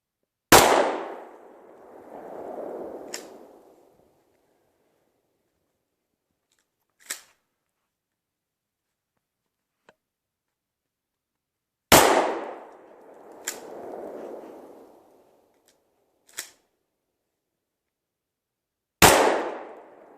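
A shotgun loaded with turkey shot fires at a Jeep oil pan, three sharp, loud blasts spaced several seconds apart, each followed by a short rumbling echo and a fainter metallic knock, with no voices.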